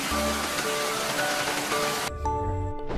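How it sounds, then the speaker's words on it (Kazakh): Rain patters in a steady, dense hiss of drops on a surface, close and even throughout, with a short dip before it carries on. "жаңбырдың тырсылы"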